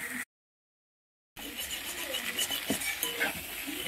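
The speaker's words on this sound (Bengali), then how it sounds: "ভালোভাবে কষানো হচ্ছে।" Mutton being sautéed in a pan for a mutton curry, soft sizzling under scraping and clinking of a spoon against the pan after a short silence at the start.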